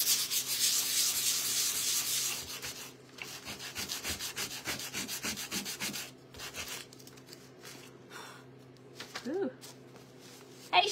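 Rapid, rhythmic rubbing strokes scrape across a carved wooden snowman, with a hissy sanding texture that quiets to intermittent scuffs near the end, with a brief voice.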